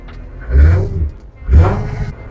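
A 1969 Ford F100 pickup's engine revs up twice in quick surges, each rising from a low idle rumble to a louder roar before easing back.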